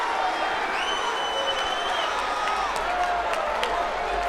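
Boxing arena crowd cheering for a women's fighter between rounds, a steady roar of many voices at moderate distance with scattered whistles rising above the broad noise.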